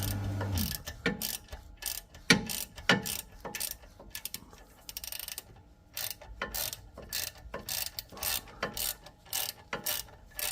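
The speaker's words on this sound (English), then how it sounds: "Let me just remove this screw, bolt." Ratchet wrench removing a bolt from the front suspension of a Mercedes W221 S600, with rapid bursts of close, sharp ratcheting clicks repeating in uneven runs and brief pauses between them.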